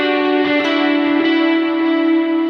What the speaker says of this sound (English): You can hear how that delay is prominent, but it widens because of that reverb.